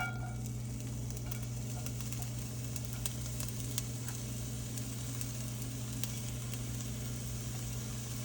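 Onions sizzling in hot oil in a Dutch oven, a soft, steady crackling fry with light stirring, faint and continuous with no talk.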